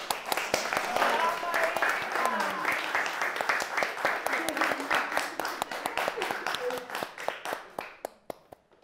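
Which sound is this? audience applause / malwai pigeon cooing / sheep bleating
audience applause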